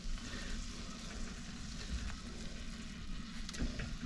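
Food frying in a pan in an RV kitchen, a faint, steady crackling sizzle with a few small clinks and no voices.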